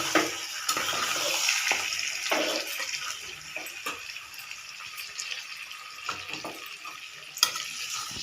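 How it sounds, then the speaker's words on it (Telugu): A spoon stirs chili powder, turmeric and salt into food sizzling in a pan, making a steady frying hiss broken by soft scraping clicks, close and continuous with no voices. "ఇప్పుడు ఇవన్నీ కారం అన్నీ వేసినాక ఒక్కసారి కలిపెట్టేసి"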